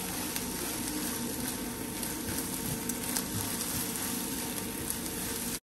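Eggs sizzle steadily in a hot frying pan while they are scrambled, a constant close hiss with faint scraping and small crackles. There is no voice.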